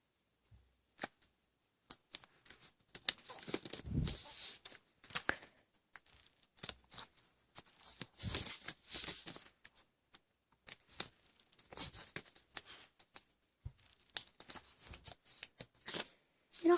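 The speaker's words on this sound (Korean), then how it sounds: "그러면 이거를 여기 손에 맞지어서 이렇게 접어주세요" Sheets of paper folded and creased into a tray envelope in a craft session, giving soft rustles, crinkles and sliding scrapes in irregular bursts, close and fairly quiet, with no talking.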